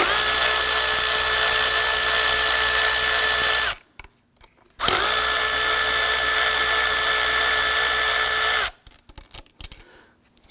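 A power tool fitted with a socket and extension whirs in two long, steady bursts, briefly pausing between them, while loosening throttle body screws on the intake manifold of a 2015-2020 Ford F-150 2.7L V6.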